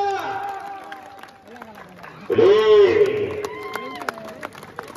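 Clapping and cheering crowd at an open-air kusti wrestling ground in Maharashtra, breaking out loudly for a few seconds midway over an announcer's amplified voice, then fading back under continued talk.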